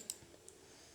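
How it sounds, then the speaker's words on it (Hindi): A computer mouse clicks twice, a crisp, faint click followed by a softer one, close and otherwise quiet with no talk. "इन 3 डॉट्स पे क्लिक करेंगे।"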